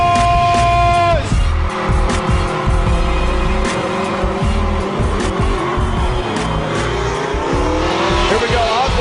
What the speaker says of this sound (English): Frederick Osbo initiates in that silence